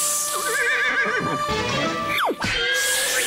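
A horse gives a loud, close whinny with a wavering, rising-and-falling pitch, followed by a sharp descending neigh near the end.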